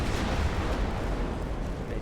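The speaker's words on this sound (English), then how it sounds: "I want to fire all my guns into the sort of center of mass of those ships there" Heavy naval guns of warships in Ultimate Admiral Dreadnoughts firing a salvo, a dense continuous booming rumble that stays loud throughout.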